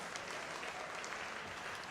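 Audience applause fills a hall after the SKF 100-year anthem is shown at the company's Bengaluru centenary celebration. It is a dense, steady wash of many hands clapping at a moderate distance and holds evenly throughout.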